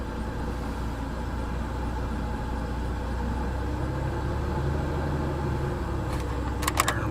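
A car engine running steadily at elevated, revved speed during an alternator output check on a vehicle with a no-start fault, a continuous close drone with a slight rise near the end.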